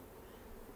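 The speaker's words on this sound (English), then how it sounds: "That is a lot of bees." Honey bees swarm around a freshly moved hive, making a brief, steady, faint drone of many wings with nobody talking.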